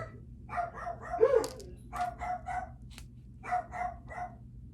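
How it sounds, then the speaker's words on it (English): Several dogs bark in short repeated bursts from a little way off, a few yips and barks grouped together over a low indoor hum, with no talk. "You're gonna have to excuse my dogs."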